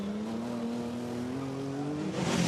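An ERA racing car, the later E-Type, climbs the hill at Chateau Impney with a loud, steady engine drone that rises slowly in pitch, the roar swelling as it nears toward the end.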